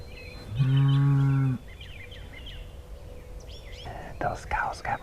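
A cow lets out one loud, close moo lasting under a second in an open pasture, followed by faint rustling and a few soft bird calls in the background.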